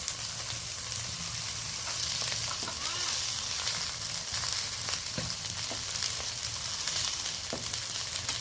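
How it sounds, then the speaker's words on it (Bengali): Eggplant pieces seasoned with salt and turmeric fry in oil, producing a steady, dense crackling sizzle with occasional soft stirring clicks close by. "অল্প লবণ হলুদ দিয়ে বেগুনটা বেশ ভালো করে ভেজে নেব।"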